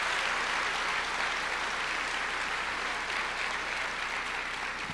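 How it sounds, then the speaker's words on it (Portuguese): A church congregation breaks into loud, sustained applause, a dense, even wash of many hands clapping at once that holds steady for several seconds. "dê uma salva de palmas para o Senhor"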